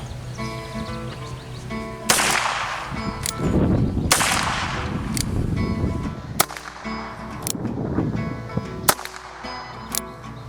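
A Ruger single-action revolver fires at an outdoor range: several loud, sharp cracks spaced a second or two apart, each followed by a short echoing decay, with no talking.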